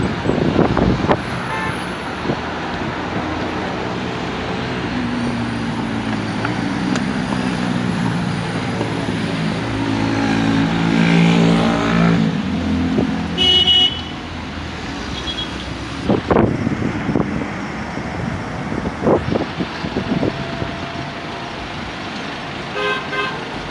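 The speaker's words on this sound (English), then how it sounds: "Try to go over the bridge in traffic." Road traffic near a bridge at a roadway repair site over broken pipes and a sinking road, with vehicles rumbling past and several car horns tooting in short bursts, some near and loud, others farther off.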